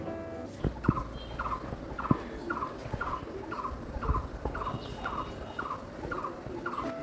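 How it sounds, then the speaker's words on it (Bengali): Birds call among garden trees in a repeated short chirp roughly every 0.7 seconds, steady and moderately close, over a soft background hum. "যে শব্দগুলো শুনছেন সেটা কিন্তু অরিজিনাল সাউন্ড এমনিতে গাছপালা থাকলে পাখি টাখি আসে"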